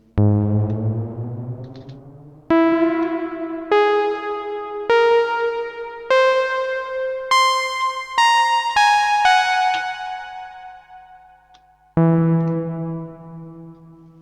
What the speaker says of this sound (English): We've got another reverb here.